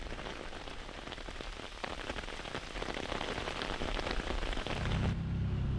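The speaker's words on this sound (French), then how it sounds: "La pluie qui tombe enfin est la bienvenue." Steady rain falling after a forest fire in a national park, a dense, even patter on surfaces that grows slightly heavier toward the end.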